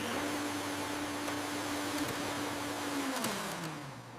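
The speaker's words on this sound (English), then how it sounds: "We need the big orange vacuum cleaner to tidy up." A big orange vacuum cleaner with a hose, used to clean up spilled silver glitter, runs with a steady droning motor hum that drops in pitch near the end as it winds down.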